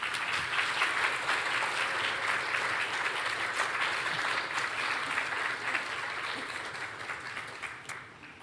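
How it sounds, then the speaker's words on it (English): Steady, dense applause from a conference audience at a graphics research event continues for several seconds, then gradually thins and fades toward the end. "he deserves a huge round of applause."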